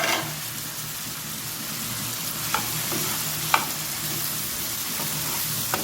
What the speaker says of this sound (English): We need to stir it for all the chickpeas.